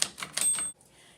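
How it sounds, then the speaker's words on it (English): Manual typewriter keys are struck in a quick run of four or five sharp, close clacks, then a faint ring before quiet. "The next step into using a typewriter is pressing on a key"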